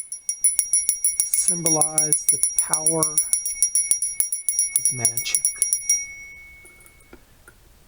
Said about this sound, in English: Let's ring our little bell to